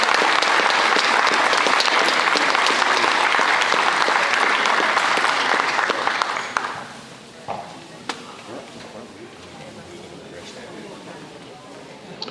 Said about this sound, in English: Let's give our wrestling program a tremendous round of applause.